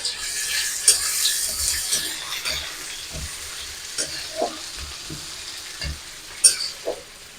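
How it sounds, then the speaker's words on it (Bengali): Chopped onions fry in a pan with a constant sizzling hiss, broken by occasional scraping stirs of a spoon at close range. "আর দিয়ে দেবো পেঁয়াজ কুচি। দিয়ে একটু নেড়ে দেবো।"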